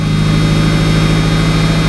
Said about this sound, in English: it's idling even for a cold start.